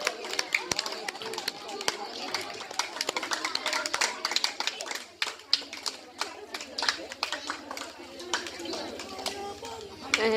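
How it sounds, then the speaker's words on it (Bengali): Scattered, uneven clapping runs throughout, mixed with people talking and children's voices in a lively space at a madrasa school competition. "হাততালি দেন, আস্তে আস্তে দেন, উৎসাহিত করেন।"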